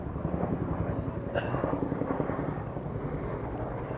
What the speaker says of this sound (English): that's a honkin' military chopper